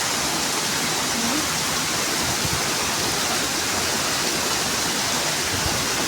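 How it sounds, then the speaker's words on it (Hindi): Rain pouring steadily at a rural Indian home near resting buffaloes, a dense even hiss of falling drops that stays constant and fairly close with no voices over it. "ये बारिश अभी 1-2 घंटा बाद होता मतलब जाके अभी हो रहा है"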